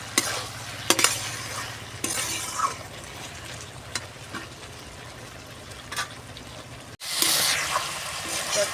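Shrimp with flat beans and eggplant stir-fried in a pan, a steady sizzle with repeated sharp scraping stirs of a utensil, then a brief cut and a louder burst of frying.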